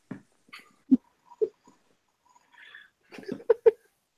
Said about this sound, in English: Sorry. My dog. Annoying.